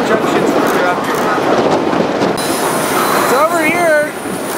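A freight train rolls along the Highline tracks between Fargo and Whitefish, a loud, steady rumble and wheel roar heard up close, with metallic squeals rising and bending near the end.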